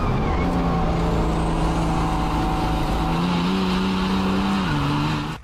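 The Old Smoke diesel race truck with compound turbos roars at Pikes Peak, a loud, steady engine drone whose pitch holds and then shifts slightly, alone for several seconds.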